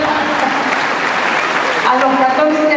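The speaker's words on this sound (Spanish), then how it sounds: "Fuerte el aplauso para darle al testigo" An audience at a church faith gathering in Formosa applauds a woman giving testimony, a loud, continuous wash of clapping close by with voices blended in.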